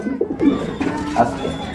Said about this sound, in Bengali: এখানে একজোড়া লাহরি কবুতর রয়েছে